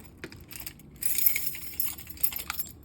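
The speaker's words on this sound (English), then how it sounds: "And we're going to use the keys that was just given to me." A set of keys jingles and clinks near a mailbox as it is opened, with faint taps first and then a denser rattling metallic jangle for the rest, no voices.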